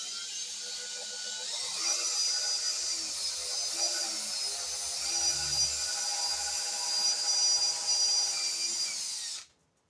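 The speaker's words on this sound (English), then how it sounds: "I'm going to pre-drill the hole first so it doesn't split" A power drill pre-drilling a hole in wood for a screw whines steadily and close up for about ten seconds, its pitch dipping slightly as it bites into the wood, then stops abruptly.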